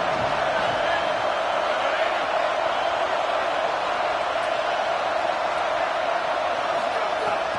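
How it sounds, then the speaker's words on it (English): Stadium crowd noise in the College Football 27 video game, SMU vs ASU: a dense, constant roar with no lulls, under play-by-play commentary. "this crowd trying to help keep them there"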